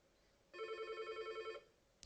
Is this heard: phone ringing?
yes